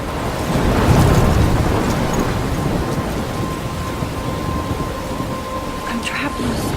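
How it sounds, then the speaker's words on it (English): A thunderstorm in the video game Life is Strange: steady heavy rain hisses throughout with a deep rumble of thunder early on, loud and enveloping, with no talking. "I'm trapped in a storm?"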